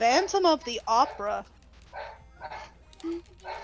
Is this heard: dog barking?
yes